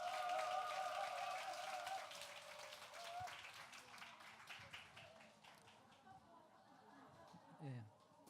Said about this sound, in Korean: 목사님에게 힘내시라고 환영의 박수